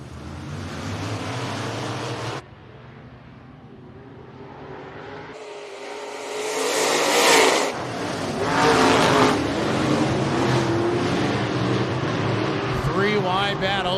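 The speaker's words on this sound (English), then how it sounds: "Final heat race here in our Papik Motors USREB Modifieds" USREB Modified race cars roar through a heat race at Rapid Speedway, with loud engine drones rising and falling as cars pass close by and an announcer talks over the racing.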